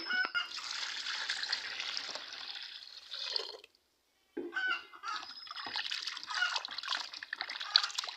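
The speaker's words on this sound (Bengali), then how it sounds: "ততক্ষণ আমি মাংসটা ধুয়ে নিই।" Raw chicken meat being washed in water while preparing chicken biryani at home: steady splashing and sloshing with dripping, one short pause midway before the rinsing resumes, no talking.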